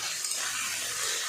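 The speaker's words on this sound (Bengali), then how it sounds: "হলুদ দিয়ে লাল লাল করে আলুগুলো ভেজে নিলাম" Potatoes frying with turmeric in a pan, a soft, steady sizzle and hiss lasting a brief moment, fairly quiet and close.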